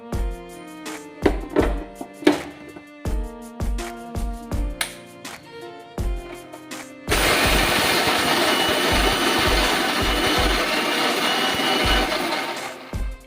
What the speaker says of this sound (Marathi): तर आता हे थंड झालं, आपण मिक्सरला लावून देऊ।